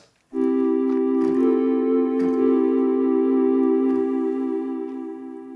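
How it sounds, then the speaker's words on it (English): A single sustained tone from an Arturia Synth-X triangle-wave oscillator, soft and hollow with few overtones, holds steady for several seconds with faint clicks underneath. "The softness of that sound is coming from the fact that oscillator 1 is currently outputting a triangle wave."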